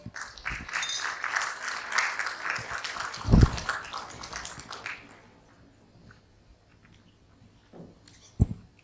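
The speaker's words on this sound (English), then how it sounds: "Please give him a big round of applause." Delegates at a learning and development summit and awards event give a guest speaker a warm round of applause that dies away after about five seconds, leaving a quiet room with a few soft knocks.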